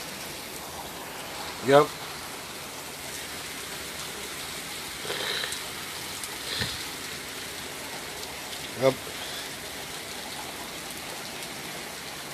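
Light rain falls in a steady soft hiss on a rainy day, with someone speaking briefly now and then over it.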